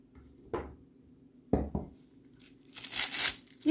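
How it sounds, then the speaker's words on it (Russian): A plastic piping bag filled with sauce has its tip snipped off, heard as a few short, close crinkling cuts and rustles in a quiet kitchen. "отрезаем у кондитерского пакетика кончик"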